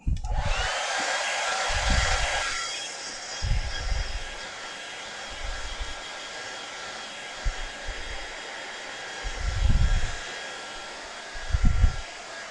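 A hair dryer blows hard on a workshop piece, a loud steady rushing roar for the first couple of seconds, then continuing more softly with occasional low thumps of handling.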